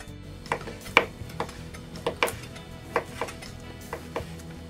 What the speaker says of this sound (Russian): Куриную грудку нарезаю соломкой,